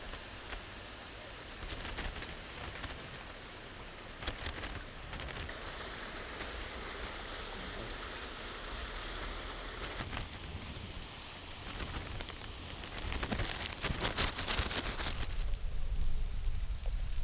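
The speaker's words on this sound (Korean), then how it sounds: "폭우로 해서 시내의 도로들이 물에 잠겨 차 운행과 보행자들에게 지장을 줬습니다." Heavy rain pouring over a flooded city, a dense steady hiss of falling water and splashing, swelling louder toward the end, with no speech.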